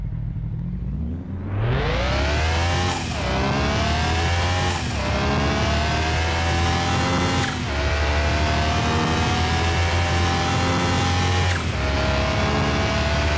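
An Audi TTS fitted with a 2JZ engine in the Car Mechanic Simulator game revs hard and climbs through several gears, each upshift dropping the pitch before it rises again, loud and continuous with no talk.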